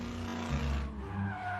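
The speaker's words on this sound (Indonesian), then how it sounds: "Gila, ugal-ugalan banget tuh mobil." A car driven recklessly, tires skidding and squealing with a revving engine in a short, fairly faint burst from an animated school film.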